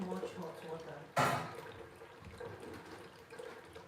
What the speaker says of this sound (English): So I'll be mixing both cold and hot water into this bowl just to soak the tapioca.